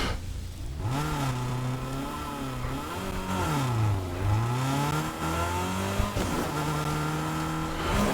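Car engine in the video game Fortnite, a steady droning motor whose pitch rises and falls as it revs and accelerates, loud and continuous with no talking.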